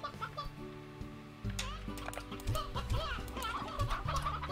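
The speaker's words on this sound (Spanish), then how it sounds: "Vamos a darle las gallinas a estos gordos de aquí." Chickens cluck in the Slime Rancher video game over steady game music, with short bursts of clucking scattered across a few seconds.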